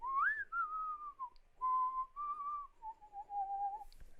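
A human voice imitates a whistle: a clear, breathy tone rising sharply, then holding and gliding slightly downward across several sustained phrases, close and alone.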